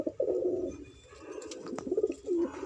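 Pigeons kept for sale coo softly in low, rolling murmurs, with faint bird chirps and a quiet background around them and no voices.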